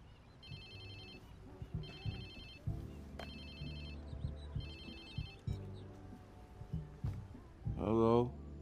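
A phone in the video game Watch Dogs 2 rings in repeated electronic bursts, fairly loud and close, among game sounds and voices.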